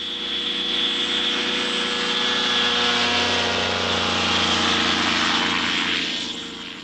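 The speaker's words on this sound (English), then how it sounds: "Our microlight weighed a mere 260 pounds. As it accelerated down our makeshift runway" A light microlight aircraft weighing about 260 pounds roars close and loud, its propeller engine droning steadily as it accelerates down a makeshift runway for takeoff, easing off slightly at the end.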